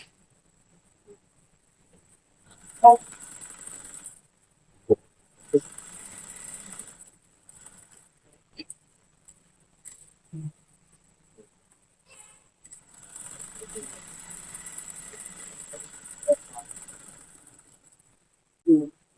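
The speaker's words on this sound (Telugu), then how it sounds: "ఈ విధంగా కొంచెం గ్యాప్ ఉండేదాన్ని పెట్టేసుకుని స్టిచ్ వేసుకోవాలి" A sewing machine stitches a blouse in several separate bursts of rapid mechanical whirring, with quiet pauses and small handling clicks between runs.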